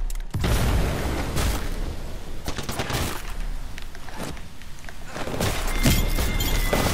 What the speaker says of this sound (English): The grenade.